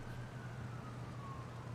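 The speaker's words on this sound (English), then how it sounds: "that's a siren" A siren passes outside, a faint, steady wailing tone drifting slightly in pitch, heard from a distance over a low indoor hum.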